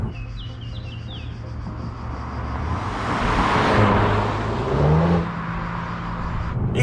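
An Audi SQ2 S tronic quattro being driven: a low engine drone with road and tyre rush that swells into a louder surge around the middle, then eases off, with some faint high chirps early on.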